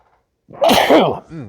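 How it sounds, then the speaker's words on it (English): A single loud, close sneeze with a sharp inhale and explosive burst, followed by a brief trailing breath. "I'm going to sneeze again, I bet."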